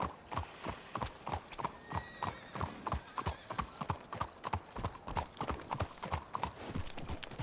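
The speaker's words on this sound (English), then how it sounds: "Let's hitch the horses up ahead." Horse hooves clip-clop in a steady rhythm of evenly spaced hits in Red Dead Redemption 2, with riders moving at a walk and a brief whinny in the mix, close and clear.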